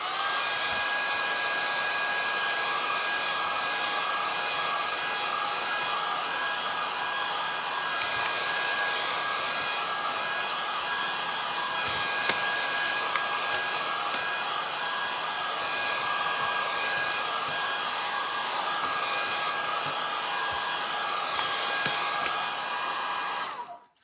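A hair dryer blowing on a FormFlex compound model of Amsterdam row houses to dry its satin top coat, a loud, steady, close whirring roar held unbroken for over twenty seconds before it cuts off.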